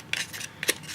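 Paper being cut with scissors in a few quick snips, each a short crisp slicing burst, close and fairly quiet with no talking.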